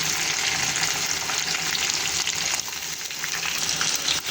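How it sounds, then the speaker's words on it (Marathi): Chopped onions sauté in hot oil with grated ginger and a pinch of asafoetida, a steady, close, dense sizzle with faint scraping of stirring, no talking, for a dry capsicum and potato dish. "कांदे आपल्याला थोडेसेच परतून द्यायचे जास्त परतून द्यायचे नाही"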